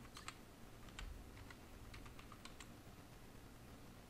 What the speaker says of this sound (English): Then on the run you have to type